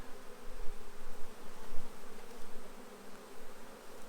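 Honey bees buzz continuously at close range during a swarm transfer into a hive box, a dense, droning hum that wavers in loudness without pause.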